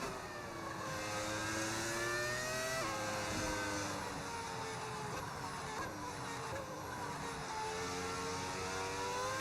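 A Formula 1 car engine in the racing game F1 25 at the Miami Grand Prix, a high-pitched whining drone with rising and falling revs and gear shifts, steady and prominent throughout with no talk.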